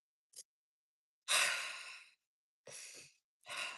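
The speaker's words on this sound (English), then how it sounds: "you start with a deep breath in" A singer takes audible breaths, close and breathy: a short intake followed by a long deep inhale-exhale, then two more breaths after a pause, with no speech.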